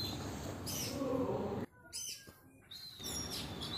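A kacer (magpie robin) songbird sings in bright, rapid chirping phrases, loud and close, breaking off briefly for a quiet pause before starting again, with another bird nearby.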